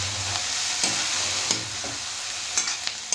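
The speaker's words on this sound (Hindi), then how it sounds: "और अब हम इसमें डाल दे हैं पत्ता गोभी, जिसको हम गरम कल्ला भी बोलते हैं" Cabbage tossed into a hot pan of mushrooms and spices, sizzling and frying steadily with scattered stirring clicks and scrapes, close and fairly loud.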